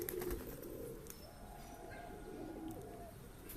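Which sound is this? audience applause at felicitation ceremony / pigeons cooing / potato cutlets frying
pigeons cooing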